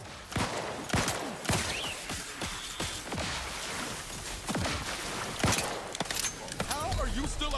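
Turrets firing in the video game Vertica: rapid bursts of sharp gunfire and crashing impacts, loud and close, mixed with game effects and a voice talking over the action.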